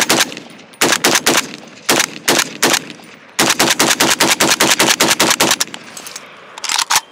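A featureless AK rifle with a fin grip and a detachable 30-round magazine fires several loud, close, rapid bursts separated by short pauses, each burst a fast string of sharp cracks.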